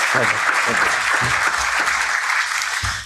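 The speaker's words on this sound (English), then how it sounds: "And a round of applause for our speakers." Applause from a conference audience for speakers at an economy and planet event, a full sustained patter of many hands, loud and even throughout before tapering at the very end.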